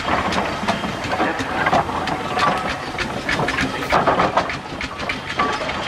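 A compound steam engine hisses and clatters at a steam and country show, giving a continuous loud, busy hiss with rapid mechanical ticking throughout.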